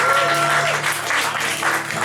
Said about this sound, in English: Micanopy Margaret, give her a round of applause,